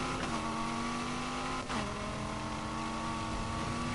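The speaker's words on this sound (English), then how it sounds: "I'm gonna hit nitrous here." A car engine roars steadily in Need For Speed Heat during a nitrous boost, loud and continuous with a brief dip in pitch near the middle before pulling strongly again.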